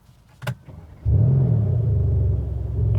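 Mercedes-AMG C63 S V8 engine starting up in a 2019 facelift estate: a brief starter click, then the engine catches with a loud deep rumble that settles into a steady burbling idle, heard close with no talking.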